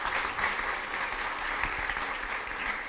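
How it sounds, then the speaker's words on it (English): Audience applause follows a policy speech by the President of Timor-Leste, a dense, even wash of clapping from a large crowd that stays steady and fairly loud throughout. "please give a big round of applause."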